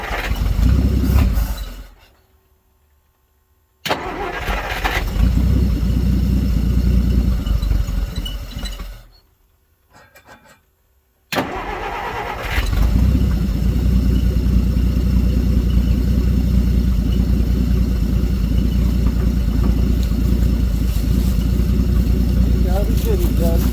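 A 1946 Plymouth engine, started after sitting for six years, cranks and catches, cuts out twice, then settles into a loud, steady, close idle.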